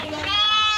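Close, loud bleating of a sheep in a simple farmer's breeding pen holding mostly ewes, one sustained wavering call.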